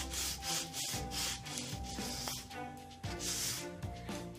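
Coarse 60-grit sandpaper rubs over a wooden furniture piece in repeated back-and-forth strokes, a close, rhythmic raspy scraping with steady hiss between passes, no talk.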